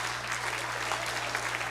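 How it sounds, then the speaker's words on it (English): Audience applause at an EdTech talk forms a steady, moderately loud wash of clapping that fills the short moment with no clear pauses. "Oh, okay, you can clap then."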